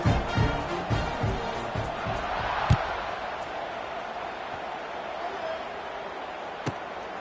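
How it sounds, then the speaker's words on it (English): A stadium crowd in College Football 26 keeps up a steady, dense roar, loudest at the start with a few sharp claps and thumps, then settling into a sustained broadband buzz. "this crowd is buzzing after that last score"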